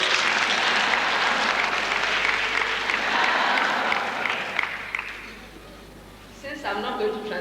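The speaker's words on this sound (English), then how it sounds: "we should really applaud them" Audience applause for the organizers at a 1997 women's association inauguration, a sustained dense clapping that fades after about five seconds before a few scattered claps and voices return.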